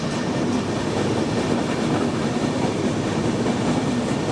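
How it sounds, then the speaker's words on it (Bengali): A Chilahati Express train rumbles past loudly and continuously, its steady roar carrying a faint clickety-clack of wheels on rails. "এখানে একটা ট্রেন আছে"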